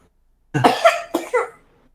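A single close, loud cough in two quick bursts, isolated against silence.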